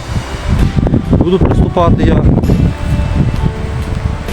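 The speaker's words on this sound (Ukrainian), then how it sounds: "Я перепрошую за шум. Сьогодні погода вітряна." Low, blustery wind buffeting the microphone in a steady rumble while someone talks over it.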